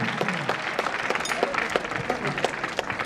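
An audience claps in a continuous patter at a traffic-awareness gathering, many hands beating unevenly with individual claps standing out close by, steady and moderately loud.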